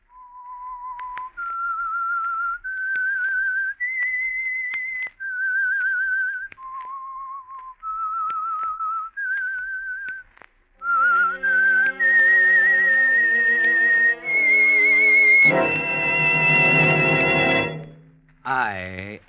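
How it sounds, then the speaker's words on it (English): A lone whistler carries the theme tune of a radio mystery show, a slow melody of clear sustained notes, before an orchestra swells in with bright brass and strings for a loud closing flourish. "That whistle is your signal for the Signal Oil Program"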